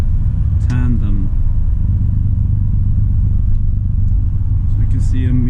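A Volvo FM truck pulling a tandem drawbar trailer drives along a snowy road with a loud, steady diesel rumble throughout, plus a couple of brief squeaky mechanical sounds.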